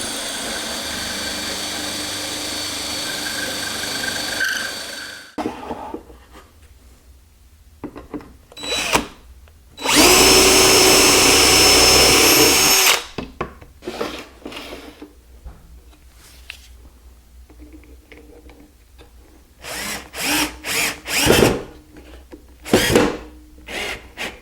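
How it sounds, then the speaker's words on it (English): A power drill whines in short bursts while boring holes through a drilling jig for frameless kitchen cabinet drawers, with one longer loud run and several brief pulses separated by quiet gaps and light handling clatter. "I need to drill a hole in through for that"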